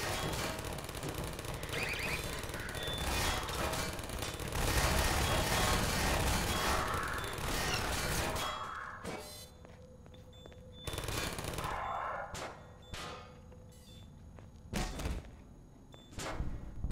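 A turret machine gun in Half-Life 2 rattles off long, loud sustained bursts, then falls silent and returns in shorter sharp bursts with thuds and gaps between them, with people talking briefly over the action.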